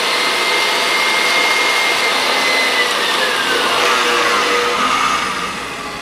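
Steady loud whir of an electric mixer running through banana bread batter as baking powder and baking soda are stirred in, a constant roaring motor tone that eases off slightly at the end.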